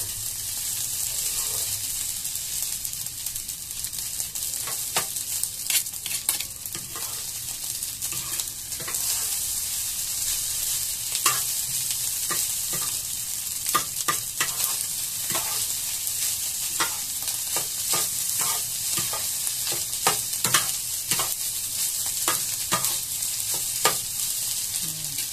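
Food stirred in a non-stick frying pan, continuous sizzling broken by frequent scraping clicks of a utensil against the pan.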